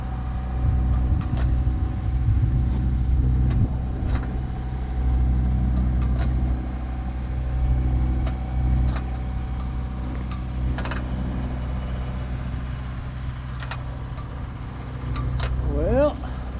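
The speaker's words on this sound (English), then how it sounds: "So let's get the engine fired up and get a move on." An auxiliary engine on a sailboat motoring through fog on the way to Muskegon, running at a steady low idle-like drone throughout, with faint knocks and clicks and brief talk over it.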